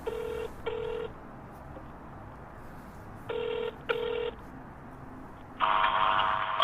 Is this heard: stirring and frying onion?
no